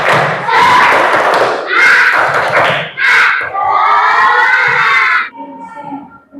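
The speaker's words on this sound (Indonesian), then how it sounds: "Tepuk semangat." Schoolchildren in an Indonesian classroom perform a spirit clapping chant, their loud shouting voices and rhythmic claps thumping together in quick bursts before the chant ends and fades.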